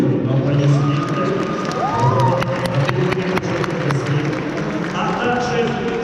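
Applause and cheering from a crowd greeting honored guests at a taekwondo event, steady and fairly loud with scattered sharp claps, while a voice speaks over it.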